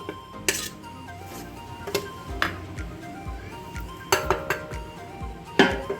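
A spoon stirs Maggi noodle omelette ingredients in a bowl: noodles, egg, salt and spices. Irregular metallic clinks and scrapes against the bowl sound close by.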